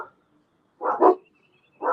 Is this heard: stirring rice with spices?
no